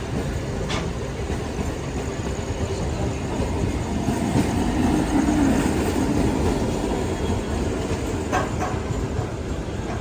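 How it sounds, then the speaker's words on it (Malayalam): Riding aboard the Gujarat Mail sleeper train near Mahim Junction, a continuous rumble of wheels and carriages runs steadily throughout, with a couple of faint metallic clicks over the drone. "ട്രെയിൻ ഇപ്പം മാഹിം ജംഗ്ഷൻ സ്റ്റേഷനിലേക്ക് എത്തിയിരിക്കുകയാണ്."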